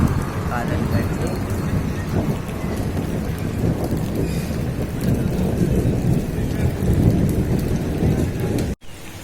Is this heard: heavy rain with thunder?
yes